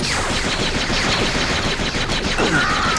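Dense, continuous gunfire rattles loud and close in Jedi Outcast at Kejim Base while a turret is sniped, a steady barrage with little letup across the span.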